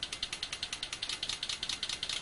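Rapid, evenly spaced mechanical ticking pulses repeat steadily from a Stanley Meyer water fuel cell HHO injector at idle, close and moderately loud with no voices.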